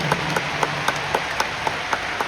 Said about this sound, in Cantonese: 呢個掌聲係屬於佢哋嘅，